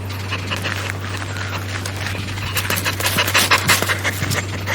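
A dog pants rapidly and heavily up close, breathy puffs growing louder toward the end, over a steady low hum, with no clear barks and no voices.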